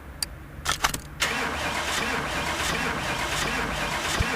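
A car engine starts in Car Mechanic Simulator 2018, with several short cranking bursts before it catches and settles into a steady, close idle hum.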